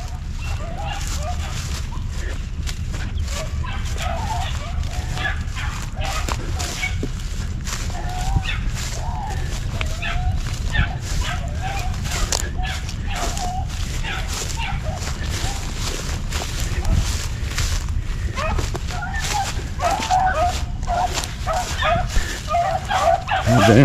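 Five-month-old rabbit dog puppies barking and yipping during a chase in spring training, distant and intermittent over steady low outdoor rumble, with someone talking at times.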